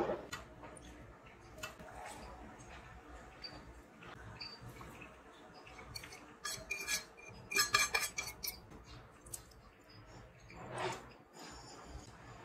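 Vegetables for Manipuri singju salad are mixed in a bowl with cutlery, giving faint, soft scraping and clinking that comes in irregular clusters and is busiest toward the middle.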